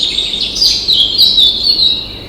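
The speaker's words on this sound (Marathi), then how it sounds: "पहाटे पक्ष्यांच्या किलबिलाटाने त्याला जाग आली." Birds chirp at dawn in a bright, continuous twittering of high tweets and trills, fairly close and alone over a faint background hiss.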